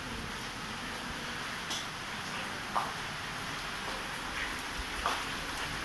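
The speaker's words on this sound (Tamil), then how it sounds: "பயங்கர மழை பெஞ்சிட்டு இருக்கு இங்கே பெங்களூரில்" Heavy rain pours steadily in Bangalore as a dense, continuous hiss, with a few faint drip or splash accents rising briefly above the wash.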